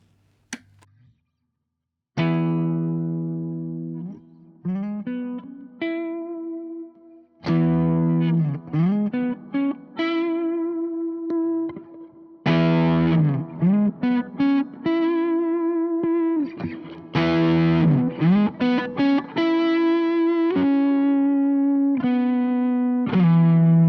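Electric guitar chords played through a Browne Ethane dual overdrive pedal, thick and sustained, with pauses between strummed phrases and some bright single-note flourishes.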